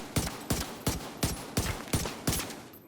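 Liberty pistol fired in The Division 2: seven sharp, evenly spaced shots roughly a third of a second apart, loud and close, with no voices.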